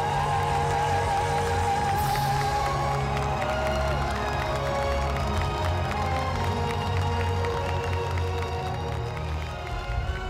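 A large outdoor crowd cheers and applauds at the Brighton Pride 2011 main stage concert; the roar is sustained and loud throughout, with steady clapping and shouts blending into a dense wall of sound.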